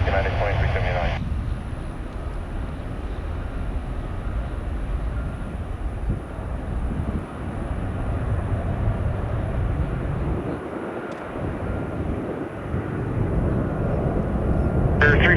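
United airliner taking off at Orlando International Airport, a steady broad jet engine roar heard from a distance that holds throughout, with a brief radio squelch at the start and end.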